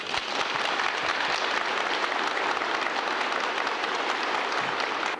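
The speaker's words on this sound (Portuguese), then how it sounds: "pedindo a todos uma salva de palmas a José Cassiano Gomes dos Reis Júnior." Continuous applause from a crowd at a 1987 inauguration ceremony for a COCAPEC unit in Claraval, Minas Gerais, a dense, even patter of clapping held for several seconds, somewhat distant and without talk.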